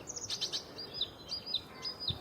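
Short high chirps repeat every half second or so, a European robin calling close by against faint background noise.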